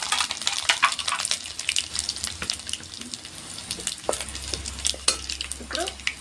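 Chilies and garlic frying in a pan for bitter gourd karam, with steady close sizzling and crackling, a few clinks and stirring scrapes, and a low hum building in the second half.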